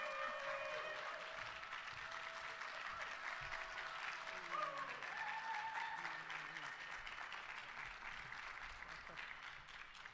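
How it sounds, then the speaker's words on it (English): Sustained audience applause fills a convention hall at the DNC in Chicago, a dense, steady wash of clapping from a large crowd with a faint voice and cheers mixed in, holding loud throughout. "please, a round of applause for Wilson Cruz"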